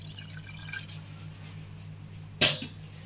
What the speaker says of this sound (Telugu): సో ఇప్పుడు ఇందులో ఏంటంటే ఒక గ్లాస్ వాటర్ వేసుకుంటాము.